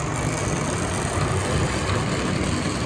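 A steady, continuous low mechanical hum and rumble of a Tri-ang Hornby model train locomotive running, with no pauses or voices.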